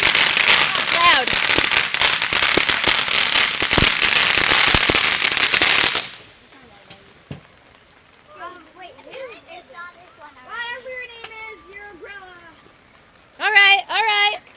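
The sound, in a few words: fireworks exploding at a live show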